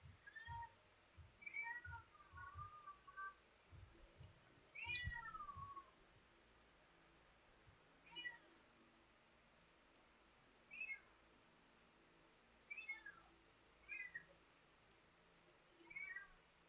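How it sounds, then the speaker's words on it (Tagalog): A cat meows repeatedly indoors, several short rising-and-falling cries spaced irregularly, fairly close and distinct, with scattered clicks and faint low thumps between them. "Ito, may pusa."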